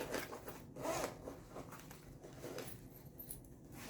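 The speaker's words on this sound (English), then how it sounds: "I'm going to open my zipper a little bit to make it easier." A zipper on a sewn fabric tablet case is pulled open in several short rasping strokes, close and fairly quiet, mixed with soft rubbing of cloth and no voices.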